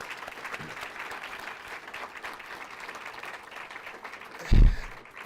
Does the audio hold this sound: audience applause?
yes